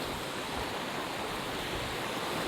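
A mountain stream rushing nearby in the early morning, heard as a loud, dense and continuous roar of flowing water with no talk.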